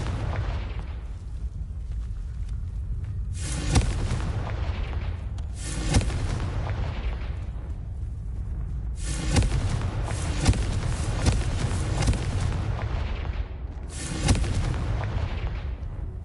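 Booming spell explosions from Confringo in Hogwarts Legacy on PlayStation, several loud blasts bursting every few seconds over a steady rumbling game background.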